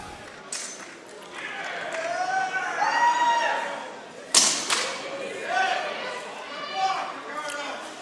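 Armored combat fighters in a professional medieval-style bout trade axe and weapon blows, with a sharp, loud clash midway and a softer knock near the start, all under continuous commentary and crowd chatter.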